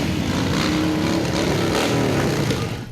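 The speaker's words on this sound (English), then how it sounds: "Engines revving, American flags flying." Motorcycle engines rev and rumble loudly at a memorial ride for fallen service members, a continuous close throaty roar with rising and falling pitch.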